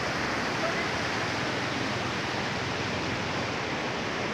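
Rain-swollen water pouring over the spillway of the Mufumba reservoir in Ceará, Brazil: a constant, even, full rushing roar with no breaks, heard close by.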